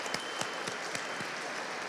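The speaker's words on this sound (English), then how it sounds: "Let's give them another round of applause." Applause from a crowd at a State House rally, moderately quiet with a few distinct rhythmic claps standing out at a steady beat over the general patter.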